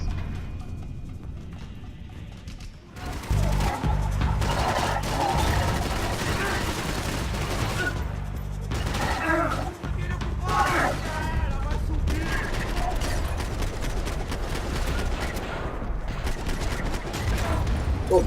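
Gunfire in the video game Max Payne 3 bursts in repeated rapid volleys against a busy background of game effects, loud and near, after a quieter opening stretch, with a voice talking over parts of it.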